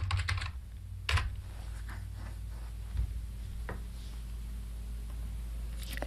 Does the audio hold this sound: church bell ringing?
no